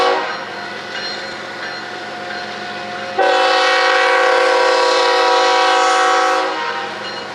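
HO scale Intermountain ES44AC GEVO model locomotive sound unit in Citirail livery, its engine hum running steadily before a loud, sustained air horn blast sounds for about three seconds and then cuts back to the engine.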